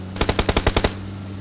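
Machine gun fire in the mobile shooter BGMI: eight rapid, evenly spaced loud bursts in under a second, then a steady background hum, with no talking.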